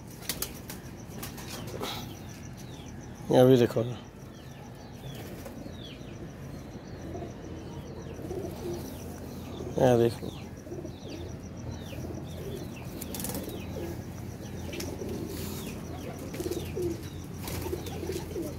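Flying pigeons kept for rooftop flight flap their wings in two loud bursts over a steady background of soft cooing and chirps, while someone speaks briefly nearby.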